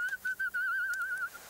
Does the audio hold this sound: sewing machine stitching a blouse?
no